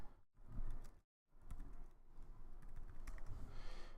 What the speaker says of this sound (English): I can add text in here by just typing.